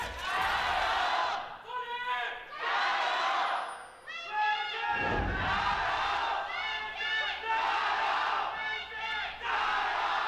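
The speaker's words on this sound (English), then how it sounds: "It's a lot of people cheering for Vici" A large esports arena crowd at an LPL Spring Split League of Legends match cheers and chants loudly and steadily for Vici Gaming against Suning Gaming, with rhythmic swelling shouts and a deep thump midway.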